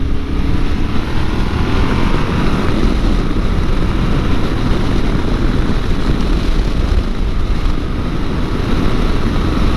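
A 2022 Yamaha Tenere 700 motorcycle rides on the road with a loud, continuous engine drone and heavy wind rush, sustained and steady throughout.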